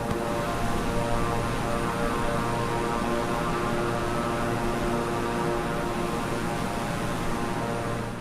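A Beechcraft propeller aircraft in Microsoft Flight Simulator drones steadily in cruise, a loud continuous engine hum with a dense tonal buzz and airy rush, unbroken and without talk.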